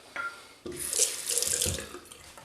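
Tap water runs into a sink while preparing to shave with sandalwood shaving cream: a steady, close rushing splash that starts suddenly after a brief quiet moment and continues unbroken, with no talking.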